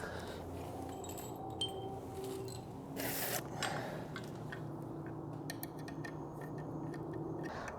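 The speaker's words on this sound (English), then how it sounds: "We'll tighten these down now that we know where we want them." Fasteners being tightened on a Kingbull EX Titan e-bike during assembly, with faint mechanical clicks and ratcheting ticks over a steady low background hum, no voices.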